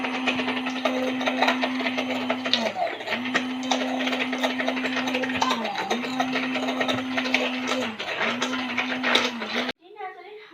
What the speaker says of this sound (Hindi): और अब मैं इसको ना जो हूँ वो ब्लेंड करूँगी।